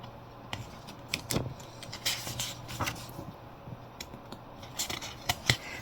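Scissors cut through fairly thick paper in a series of close, crisp snips at an irregular rhythm, with quiet pauses between the cuts.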